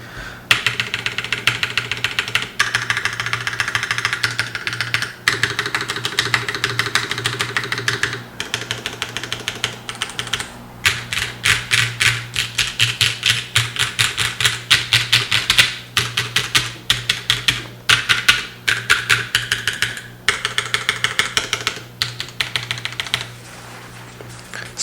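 Rapid clacky typing on an Atelier Haven TKL mechanical keyboard without a desk mat, dense keystrokes in bursts with short pauses, close up and alone.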